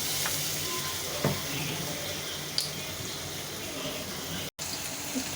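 Tomato and onion fry in oil with a continuous close sizzle and faint clinks, steady throughout apart from a momentary dropout near the end.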